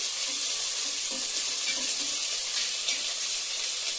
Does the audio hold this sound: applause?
no